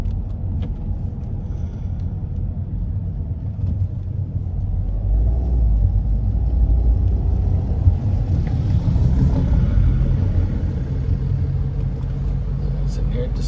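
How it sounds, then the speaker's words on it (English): A 2015 Volkswagen Beetle Convertible's 1.8-litre turbo engine idling at a stop sign, a low, steady rumble from inside the cabin, constant and unhurried, building slightly partway through. "Engine just runs fantastic."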